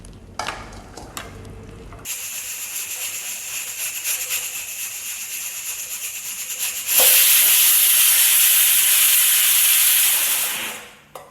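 A pressure cooker cooking rice hisses steadily for several seconds, then its whistle shrieks loudly and continuously for a few seconds before cutting off.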